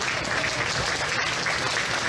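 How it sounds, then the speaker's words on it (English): An audience claps for a class of exhibitors at a county fair cattle show, a dense, sustained burst of applause that runs steadily through the whole moment without talk. "let's give this class of exhibitors a round of applause"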